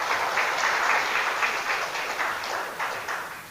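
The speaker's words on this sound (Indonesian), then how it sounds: "Tepuk tangan." Applause from an audience at an Islamic religious talk, steady dense clapping that continues throughout without voices.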